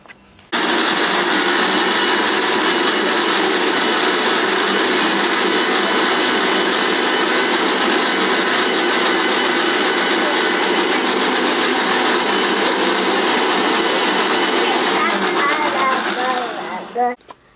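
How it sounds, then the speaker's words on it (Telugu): A kitchen mixer grinder blends carrot juice with milk, a loud steady whir running nearly unbroken for about sixteen seconds before spinning down at the end. "ఇప్పుడు మిక్సీ వేసుకో."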